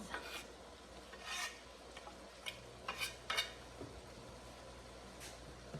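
A spoon stirs chili with tomatoes and garlic in a cooking pot, giving a few soft, scraping strokes at an uneven pace, fairly quiet against a low background hum.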